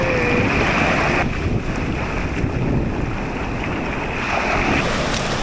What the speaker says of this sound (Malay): Dia punya ombak ni pun kuat.